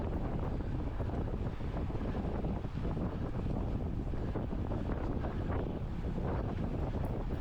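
Steady wind roaring across the microphone at an outdoor criterium bike race, a continuous loud buffeting rush with no breaks, no other clear sounds over it.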